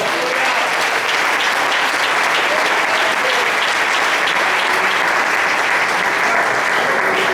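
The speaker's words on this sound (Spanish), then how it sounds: "denle un aplauso al Señor." Church congregation applauding the Lord during a Spanish-language worship service, a dense, steady wash of many hands clapping at full volume for about seven seconds, with no voices rising above it.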